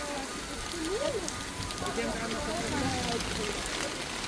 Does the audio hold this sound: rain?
yes